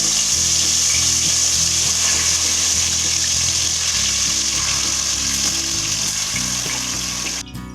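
Chicken sizzles in about three spoonfuls of oil in a pan, a dense, steady, loud crackling hiss that continues unbroken throughout.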